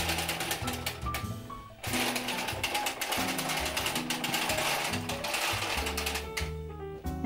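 A domestic knitting machine casts off the back neck stitches of a sweater, its carriage clacking and whirring in a continuous mechanical run with steady ratcheting, loud and close throughout.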